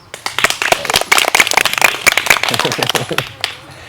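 A small family gathering at home claps after a song is sung, a burst of quick, uneven hand claps close by that builds, holds for a few seconds and then tapers off, with voices mixed in.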